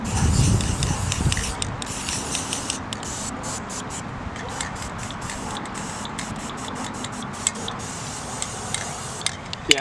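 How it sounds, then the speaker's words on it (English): A spray paint can running nearly empty while painting an old go-kart, giving a steady close hiss broken by rapid sputtering dropouts and ticking bursts throughout. "So I'm out of spray paint"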